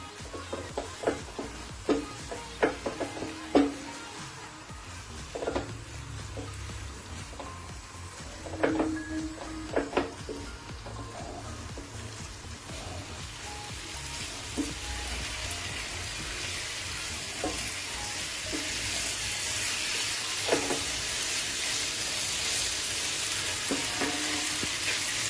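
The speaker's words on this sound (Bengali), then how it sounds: "এখন আমি পনির, ক্যাপসিকাম, পেঁয়াজ, টমেটো সব মিশিয়ে দিলাম।" Paneer, capsicum, onion and tomato are stirred into masala in a hot pan, a soft continuous sizzle broken by repeated spoon scrapes and clinks at an uneven rhythm, close and moderately quiet.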